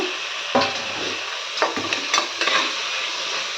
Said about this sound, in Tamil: 2 தக்காளி இதிலே போட்டு வதக்கலாங்க